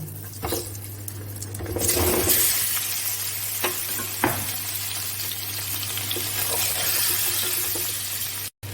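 Potatoes fry in hot oil in a kadai for aloo dum, giving a steady loud sizzle with occasional stirring clatter, with no voices.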